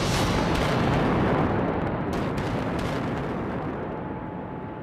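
A huge blast at an Australian iron ore mine rolls out as a loud, sustained broadband rumble that fills everything and slowly fades.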